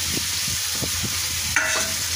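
Chicken and fried potatoes sizzle in spiced masala with a constant hiss, while a spoon scrapes the pan in a few rhythmic stirring strokes close by.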